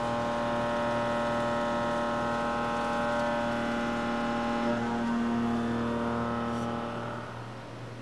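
Campro CNV850 mill heavy cutting 1018 steel with a 2.5 inch shoulder mill at 1176 RPM, a loud sustained droning cut with strong steady tonal harmonics, easing off near the end.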